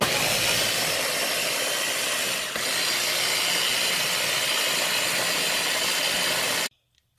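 A kitchen appliance motor blending cauliflower mash with sour cream, a loud steady whirring roar with one brief dip, running without a break until it cuts off abruptly near the end.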